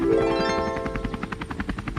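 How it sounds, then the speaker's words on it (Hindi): A cartoon helicopter flies overhead dropping sacks of grain to flood victims, its rotor chop a steady rapid thumping over a dense mechanical drone, loud and continuous throughout. "अब वह हेलीकॉप्टर बाढ़ पीड़ितों की मदद के लिए अनाज फेंक रहा है"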